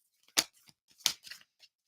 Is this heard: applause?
no